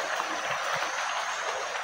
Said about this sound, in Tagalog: Ayan, yung sapa.